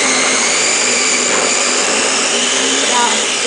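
A Ninja blender whirs loudly and steadily, churning homemade butter with added salt in a constant high motor whine with no breaks, and a voice talks over it.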